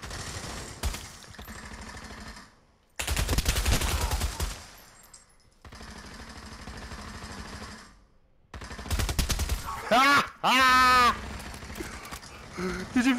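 Bursts of automatic gunfire from the Pavlov VR shooter game, played in free-for-all deathmatch, come in several loud clusters separated by short gaps, with a flurry of rapid shots and whizzing effects near the end.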